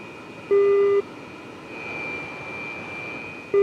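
A radar warning receiver in an Su-27 cockpit in the DCS World flight simulator gives a steady mid-pitched beep, two half-second tones about three seconds apart, over a constant jet engine drone.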